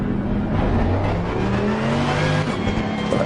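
Race car engine in the FIA Motorsports Games video game, revving loudly and steadily throughout, with shifting pitch as it climbs through the gears and faint tire noise.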